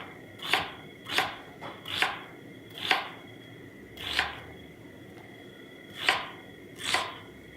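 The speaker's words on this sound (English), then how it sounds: "So cut your onion all the way like that." A knife chops through an onion half on a cutting board for a chicken couscous dish, with eight sharp, evenly spaced cuts close up and no talking.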